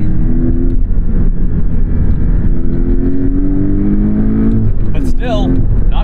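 Porsche 718 Cayman GTS with a turbocharged engine revving, a loud, steady drone with rising pitch sweeps that runs throughout, close by.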